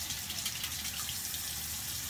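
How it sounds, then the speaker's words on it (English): Warm water running from a bathroom tap, a steady gushing splash into a sink, close and continuous with no talking. "So I dampen my face with a little warm water first"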